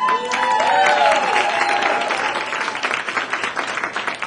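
Audience at a comedy club claps, a dense burst of applause at first that thins into scattered claps, with a voice speaking over the start.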